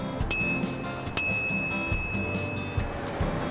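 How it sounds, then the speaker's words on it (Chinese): A Lezyne bicycle bell rings twice up close, each strike giving a clear metallic ping that lingers and fades, over a low background hum. "可以配置铃铛来警示其他用路人"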